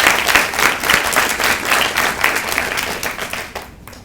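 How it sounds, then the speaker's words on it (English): Applause for the teams at a primary school state debating championship: a loud, steady wash of many hands clapping that tapers off in the final half second. "I'd like to give another round of applause to all teams in this debate."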